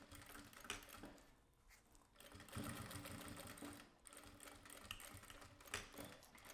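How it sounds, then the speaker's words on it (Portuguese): A sewing machine stitches a seam on a fabric clutch bag, a steady close whirring run of rapid needle clatter with short pauses, faint overall. "Entro na máquina, passo uma costura."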